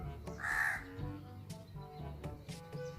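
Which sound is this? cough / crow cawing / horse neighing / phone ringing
crow cawing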